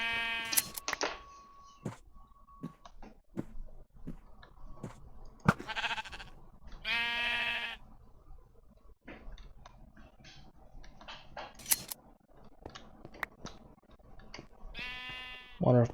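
Repeated sheep bleats from Minecraft (FTB Interactions modpack), several short nasal blats spread across the stretch at moderate loudness, alongside game clicks and someone talking over them.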